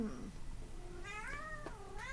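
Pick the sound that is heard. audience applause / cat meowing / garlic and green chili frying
cat meowing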